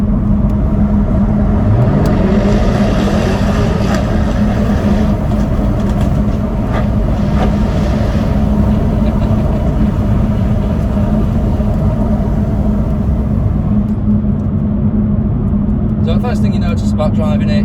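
From inside the cabin, a Jaguar F-Type R's 5-litre supercharged V8 engine and exhaust drone deep and loud on the move. A rising rev sweep early on gives way to a constant heavy rumble.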